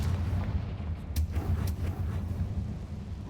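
A Confringo blasting spell explodes in a Harry Potter video game, a dense rumbling blast with a few sharp cracking bursts over a low roar.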